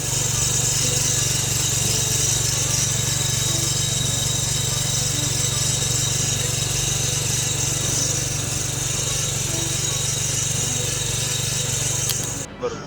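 A small farm power tiller engine, working between drumstick and coconut trees, drones steadily and loudly at close range with a constant low hum, then cuts out abruptly near the end.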